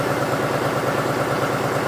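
A John Deere 5103 tractor idles after a cold start, its engine chugging in a fast, even pulse, close and steady throughout.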